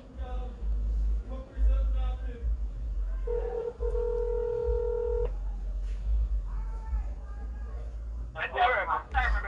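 A telephone keypad sounds a short run of dialing tones, near and clear, amid a busy domestic scene with voices talking before and after and background household noise.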